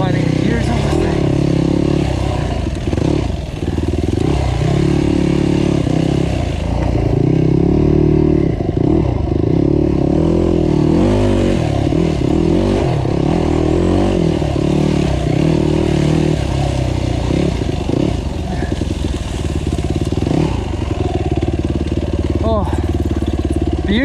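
A trail motorcycle rides along a lakeside loop trail, its engine droning steadily and loudly as the rider works through the gears, with rattling and clatter over rough ground and a rider talking over the noise.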